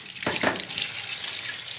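Tap water pours over fresh strawberries in a kitchen sink, a steady close hiss and splash with brief louder gushes near the start, no voices.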